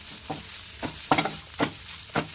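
Grated coconut frying in a pan for dry chutney, faint sizzling broken by four or five distinct spatula scrapes in an uneven rhythm, close and quiet, no talking.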